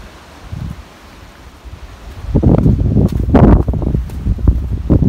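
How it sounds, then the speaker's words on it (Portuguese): Sea surging into coastal caves along the cliffs at Praia da Luz in the Algarve, Portugal, with a brief low rumble early, then a broad, loud washing roar building in the second half under gusty wind on the microphone. "Não sei se conseguem ver o barulho quando o mar entra."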